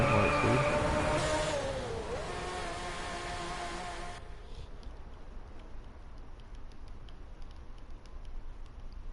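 Enzo Ferrari engine in the DriveClub racing game, a loud high-revving roar with rising and falling pitch for about four seconds that cuts off abruptly, leaving a quieter engine drone.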